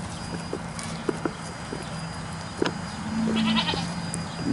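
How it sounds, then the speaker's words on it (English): Nigerian dwarf goats bleat a few times in a quiet farmyard, short nasal calls scattered over a steady low background, with faint hoof clatter and rustling. "Nigerian dwarf goats."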